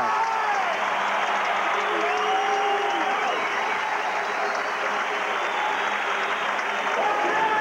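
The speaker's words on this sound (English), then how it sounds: "The crowd awakens again." A crowd cheers and applauds in an indoor soccer arena during a 1989 MISL playoff match between the Kansas City Chiefs and the St. Louis Steamers, a loud, sustained roar that holds steady throughout.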